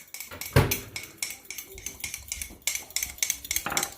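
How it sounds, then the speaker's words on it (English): A fork scrapes and clinks against a mug while mixing vanilla sprinkle mug cake batter, a quick run of rhythmic metallic taps and scrapes, fairly close and light, with some talk over it. "Now I gotta mix it. Yep, use that fork."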